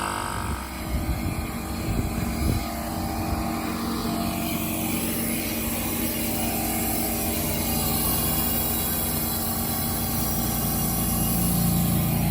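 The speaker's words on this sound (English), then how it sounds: "we're gonna try to limp this thing along to just cut our grass at least" A Cub Cadet riding lawn mower with a carburetor fault runs steadily for about twelve seconds, its engine droning close to the microphone under wind noise with no speech.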